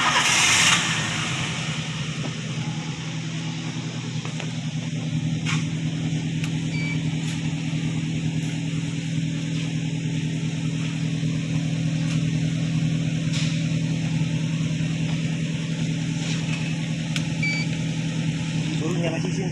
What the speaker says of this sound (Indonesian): Lalu kita nyalakan mesin.